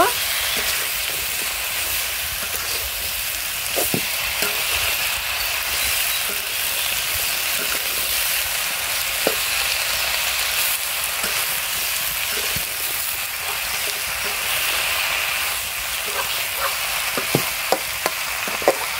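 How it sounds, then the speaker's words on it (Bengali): Vegetables frying in a cooked spice masala for a Rohu fish and Malabar spinach curry, a loud, steady, close sizzle running throughout with faint scattered clicks from stirring. "মশলা কষানো আমার শেষ, আমি এখন তরকারিগুলো দিয়ে দিব। কিছুক্ষণ নাড়াচাড়া করে আমি তরকারিগুলো ঢেকে দেব।"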